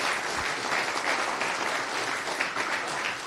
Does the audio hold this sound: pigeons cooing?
no